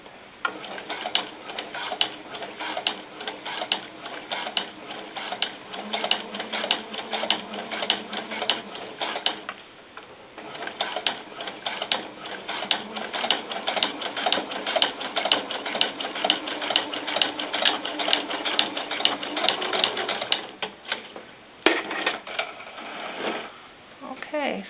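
A sewing machine runs top stitching on fabric for doll snakeskin boots, with a fast steady mechanical ticking hum that continues for most of the stretch and pauses briefly twice.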